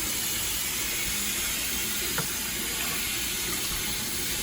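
About two cups of water pour steadily into a pot holding goat meat for Jamaican curry goat, a continuous close rushing splash that holds at an even level throughout.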